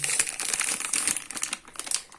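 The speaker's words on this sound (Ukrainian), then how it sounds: "що я додаю пів кілограма цукру поки що." Granulated sugar, about half a kilogram, poured from a packet into a pot of tomatoes and apples for marmalade, giving a dense, crackling granular rush with papery crinkling that runs steadily for about two seconds, close and fairly loud.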